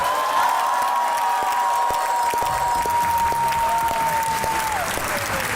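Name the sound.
studio audience applause welcoming guests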